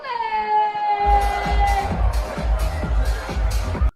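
Crowd noise at a live event in Brooklyn: a sustained sung or held tone fades into a burst of cheering and rhythmic clapping that builds, loud and close.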